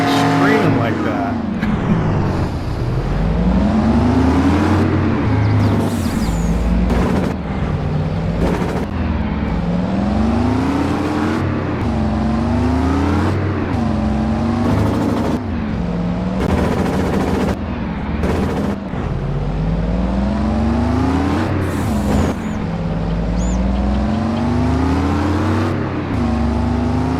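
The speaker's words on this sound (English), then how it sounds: "Engine screaming like that." A tractor engine in Farming Simulator 22 revs hard and repeatedly, its pitch sweeping up and down in loud, continuous surges with brief breaks, heard alone and close for nearly half a minute.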